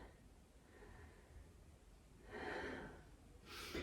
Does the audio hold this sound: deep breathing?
yes